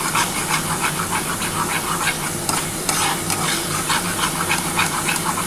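Katla fish curry being stirred in a pan, a dense, loud sizzle with continuous scraping and rhythmic spatula strokes close by, no voices.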